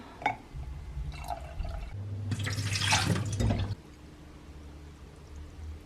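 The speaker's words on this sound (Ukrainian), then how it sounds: "Набираємо з акваріуму і додаємо сюди." Aquarium water scooped and poured into a container, with close splashing and trickling that swells in the middle and then settles into a quieter drip and hum.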